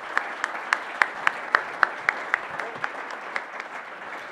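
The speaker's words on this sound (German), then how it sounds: "einen herzlichen Applaus für unsere Kandidaten" Audience applause for Ständerat election candidates at a debate in a media studio, with many hands clapping in a continuous wash and a few louder claps standing out in a rough rhythmic pulse near the microphone.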